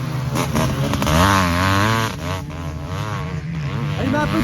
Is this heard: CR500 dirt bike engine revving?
yes